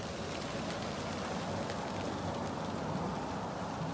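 Constant light drizzling rain with dripping water, a steady dense patter heard alone without any heavy downpour, even in level throughout.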